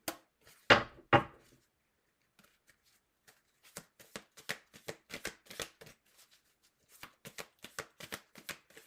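Tarot cards are shuffled by hand: two loud riffles near the start, then a quiet pause, then a long run of quick, crisp card slaps and riffles, close and clear with no talking.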